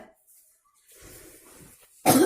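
A woman performing a stage monologue coughs once, sharply and loudly, at the end of a stretch of faint breathy sounds and quiet murmuring.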